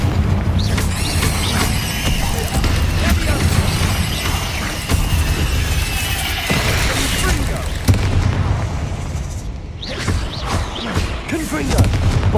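Explosive Confringo and Bombarda spell blasts from Hogwarts Legacy, loud booms and bursts layered over busy combat noise with a character's voice calling the spells throughout.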